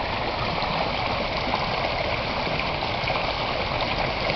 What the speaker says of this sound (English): we got whitewater again